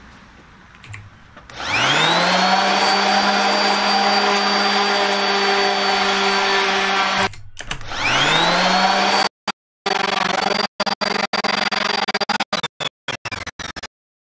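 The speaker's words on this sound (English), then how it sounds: "Using my orbital sander." Orbital sander sanding wood during jointer surface prep, running loud and steady with a constant motor whine. It stops briefly, starts again, then cuts in and out in choppy bursts near the end.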